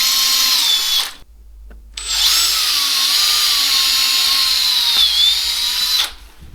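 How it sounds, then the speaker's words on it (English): A power drill with a countersink bit bores into wood to round out a recess for a screw head while shelves are built. Two loud, close whining runs are heard, with a short pause between them and the pitch dipping under load. "The last thing I'm going to do is get a countersink bit. I'm just going to round out where the head of the screw is going to go."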